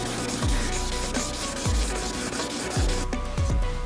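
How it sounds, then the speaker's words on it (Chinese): Wet sanding of the clear coat on an E46 M3 front bumper with 2500-grit sandpaper, a steady rasping rub repeated in back-and-forth strokes, close and continuous with faint low knocks. "我們再用2500的砂紙給它細打磨一次"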